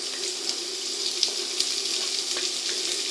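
Pre-cut vegetables for a corn and chicken soup going into hot oil, giving a steady broad hiss with small scattered pops and crackles throughout, close and moderately loud, with no one talking.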